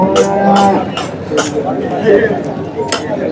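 Cattle at the Punganur cow and bull market, with lowing and moos rising through a busy, noisy crowd as people talk close by.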